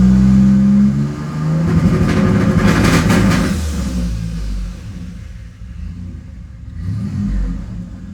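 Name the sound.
Ford Ranger turbo engine revving with launch control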